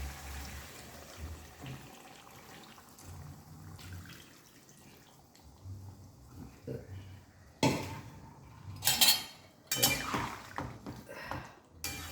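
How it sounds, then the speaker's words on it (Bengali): Hot water poured into a pot of chicken curry with potatoes simmering on a stove, heard as a few short splashing, bubbling bursts near the end after quiet cooking noise, with a voice talking faintly in the background. "এবারে আমি একটু গরম জল দেব"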